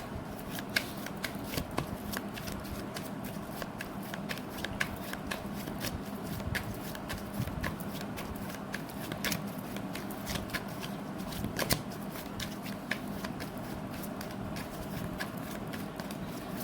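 Tarot cards shuffle continuously with quick, crisp riffling flicks and soft taps, close and fairly quiet, with no talk over them.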